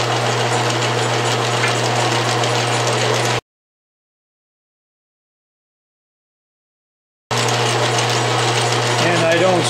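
An Atlas lathe with 3D-printed gears turns 1¼-inch mild steel stock at 500 RPM with oil, a steady mechanical whir and gear clatter that cuts to complete silence midway, then resumes.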